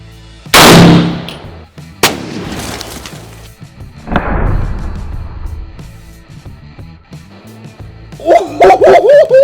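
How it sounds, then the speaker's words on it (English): Several loud M1 Garand rifle shots are fired at close range outdoors, with sharp blasts at intervals, followed by a dog barking and yipping near the end. "let's blow this baby up with an M1 Garand"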